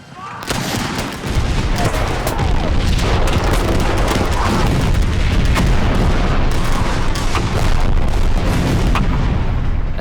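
Gunfire and artillery in a Civil War battle, a dense, loud, continuous barrage of rifle volleys and booming cannon blasts rolling together without a break.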